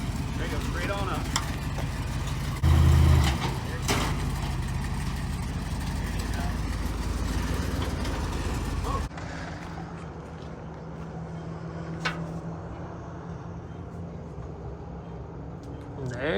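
A 1979 Monte Carlo pulls off: a rough engine rumble holds for several seconds with a brief louder burst, then drops abruptly to a fainter, distant idle-like hum with scattered knocks, and voices talk over it.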